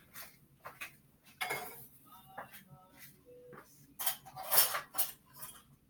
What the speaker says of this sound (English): So I get a spoon and I mix and mix